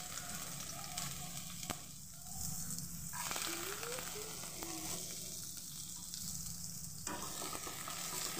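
Chopped onions and whole cumin seeds hit hot mustard oil in a wok, giving a steady loud sizzle and crackle that runs throughout with no voices.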